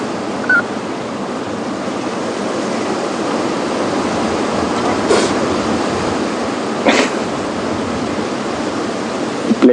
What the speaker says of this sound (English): heard a wildebeest sneeze there.